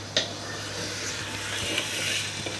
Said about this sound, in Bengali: বিফটাকে আমরা ভালো করে কষাবো